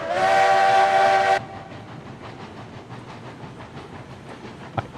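Locomotive whistle in the railway game Railroads Online: one loud, steady harmonic blast of about a second and a half, followed by rolling train rumble and rhythmic wheel clatter with a faint sharp click near the end.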